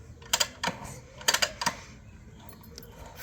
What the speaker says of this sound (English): To charge the carburetor, some dry kicks